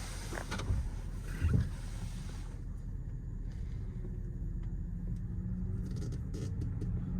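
A 2015 Jaguar XJL with a supercharged V8 drives along in a soft, steady cabin rumble that is quiet and muffled. A few faint clicks and bumps come at the start.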